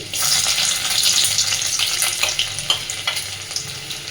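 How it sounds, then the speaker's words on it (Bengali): Chopped garlic and ginger hit hot oil for an egg and masoor dal tarka, a bright, close, continuous sizzle with splattering crackles that eases slightly toward the end. "তেলের মধ্যে সবার আগে দিচ্ছি রসুন কুচি পরপর এবার দিয়ে দিচ্ছি আদা কুচি"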